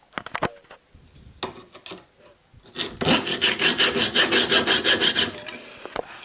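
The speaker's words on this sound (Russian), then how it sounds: "Взял, я зажал в тисочки и просто работаю напильником." A hand file widens a steel bicycle frame dropout clamped in a vise: scattered scrapes at first, then a run of steady rhythmic rasping strokes, close and loud.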